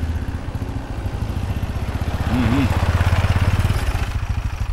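A vehicle engine idles with a fast, regular pulsing chug, briefly swelling louder midway as the vehicle slows and pulls to the left, heard up close.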